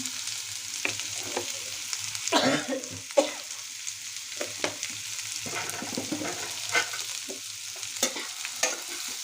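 Potatoes fry in a pan with salt and turmeric, a soft continuous sizzle broken by repeated scrapes and knocks of a stirring spoon, close by with no talking.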